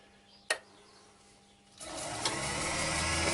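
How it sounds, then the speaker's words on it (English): A woodturning scraper shapes an ash bowl on a lathe: a single sharp click, then a steady hissing scrape from the spinning wood that begins partway through and continues to the end. "I'll show you a bit with a scraper."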